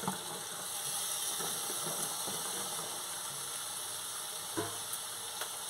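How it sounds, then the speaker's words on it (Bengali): Eggplant pieces fry in oil with a spiced masala in a pan, giving a steady, close sizzle that runs the whole time with a few soft stirring scrapes and no talking. "বেগুনগুলো ভালো করে আমি মশলার সঙ্গে এইভাবে একটু কষে নেবো"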